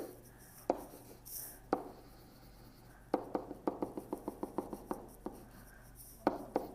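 Pen marking on paper while sketching geometry lines, a series of quiet close scratchy strokes, first spaced out and then a quick run of short regular dashes, over faint background hum.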